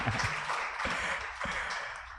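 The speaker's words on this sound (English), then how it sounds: "Let's clap for her." An audience at a weekly press and public engagement session of the Radical New Bar claps for a new student, producing a soft, continuous patter of applause at moderate distance with no talk.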